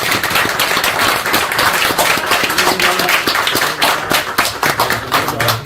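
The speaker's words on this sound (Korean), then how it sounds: "한번 우리가 감사하다고 박수 한번 부탁드립니다." Vigorous, close clapping from a church audience at a book concert, many sharp hand claps in a continuous loud burst sustained throughout.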